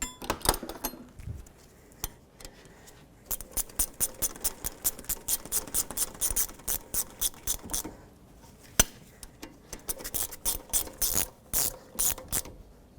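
A hand ratchet snugs the rear brake caliper bolts on a 2003-2007 Nissan Murano, giving rapid repeated clicking strokes in bursts with short pauses, close and crisp with no talking.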